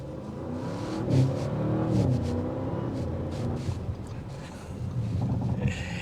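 A 2025 Audi RS7 Performance, 621 hp, accelerating: a steady engine roar that swells and holds under wind noise, heard from inside or near the car, with no talking.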